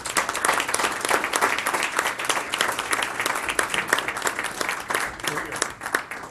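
Applause fills a board of finance meeting, many hands clapping steadily and fairly loud throughout, with a faint murmur of voices underneath.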